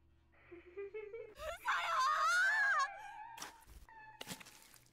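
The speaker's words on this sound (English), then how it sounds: "Christy's terrifying scream echoes from both the phone and outside the booth." A terrifying scream from a phone in the horror game Death Mark rises and wavers for a few seconds among faint thuds and eerie ambience, quiet and alone.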